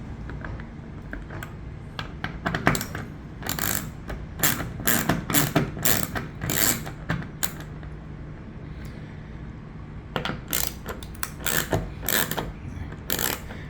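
A ratchet driving a T27 Torx bit to back out screws on an Aston Martin DB11 third brake light, heard as close, rapid bursts of clicking in several runs separated by short pauses.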